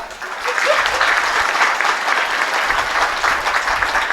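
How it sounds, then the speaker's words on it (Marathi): Men in a kirtan audience clap loudly together, a dense, sustained burst of applause from a crowd in a large gathering that runs steadily throughout. "आता पुरुष मंडळी तुम्ही टाळी वाजव बरं सर्वांना जोरात"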